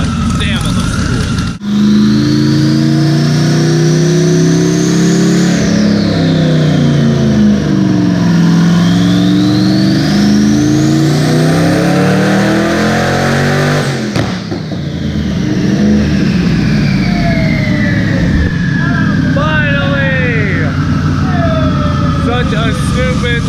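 A 1000+ horsepower car engine roars on a dyno, with long rising and falling revs, a sharp cut near the middle, then further climbing pulls and crackling, close and very loud.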